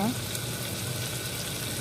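Ginger garlic paste, mustard seeds, cumin and tomatoes fry in hot oil as a tempering for tomato dal, giving a steady, even sizzle close by throughout.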